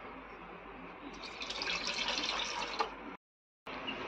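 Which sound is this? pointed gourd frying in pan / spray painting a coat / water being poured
water being poured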